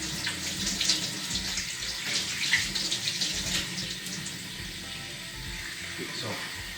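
A tap runs steadily into a sink while whole cleaned, scaled sea bass are rinsed under it, a close, continuous splashing gush with shifting spatter as the fish are moved through the stream.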